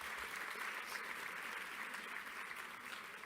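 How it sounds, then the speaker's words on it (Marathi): Audience at the COEP Abhiman Awards 2024 ceremony clapping: a steady wash of crowd applause, fairly faint and distant, holding evenly throughout with no voices over it. "पुन्हा एकदा जोरदार टाळ्या."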